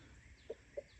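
Meat chickens on a small farm give three short clucks, evenly spaced and fairly close, over a faint background hum.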